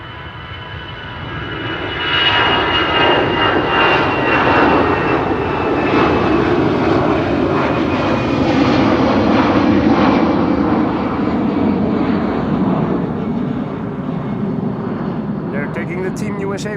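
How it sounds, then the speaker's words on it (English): Airliner on a flight to Frankfurt taking off from Runway 09 at Amsterdam Schiphol Airport, a loud, steady engine roar that rises and holds throughout, with a falling whine on top. "Lufty, flight 987 to Frankfurt is now taking off from"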